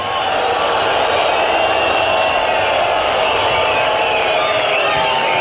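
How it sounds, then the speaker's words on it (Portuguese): A dense crowd of protesting teachers at a November 2008 demonstration roars continuously, a loud sustained wall of booing, shouting and whistles with no pauses. "o que há é uma enorme vaia de todos os que aqui estamos"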